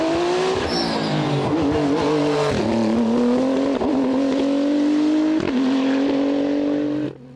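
A Renault RS 01 race car climbs a hill, its engine loud and near, revving hard through gear changes with brief dips between shifts before the sound cuts off at the end.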